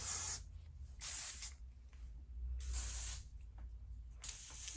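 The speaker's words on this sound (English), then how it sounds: "It protects up to 450 degrees Fahrenheit for your hair, and I will be spraying that all over" Heat protectant spray is misted onto hair in three separate bursts, each a short hissing spritz with quiet gaps between them.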